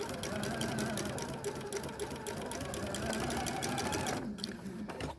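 A sewing machine runs continuously at close range, stitching a quarter-inch seam on a bordered Monkey Wrench quilt block. Its rapid needle chatter fills most of the clip, then stops near the end.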